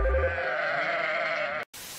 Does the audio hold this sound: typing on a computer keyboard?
no